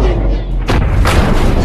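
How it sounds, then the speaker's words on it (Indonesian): A helicopter crashing and exploding in the zombie film World War Z, heard as a deep, loud boom with two sharp blasts over a constant low rumble. "Dan helikopter itu pun jatuh lalu meledak."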